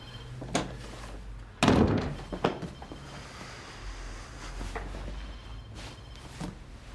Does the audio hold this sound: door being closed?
yes